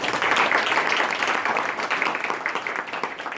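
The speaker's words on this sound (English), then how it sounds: "Let's have a round of applause." A live audience at a mobile app UX event applauds, a dense, loud burst of many hands clapping that carries steadily before thinning slightly toward the end.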